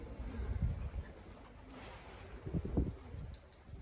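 Young homing pigeons gather on and around a coop roof during training, giving soft low cooing calls in a few short bursts against steady outdoor background noise.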